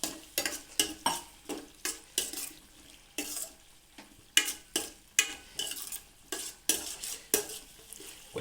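Chittoor-style chicken curry sizzles in a pan while a spoon stirs it in a steady, regular rhythm, each scraping stroke rising clearly above a soft background bubbling.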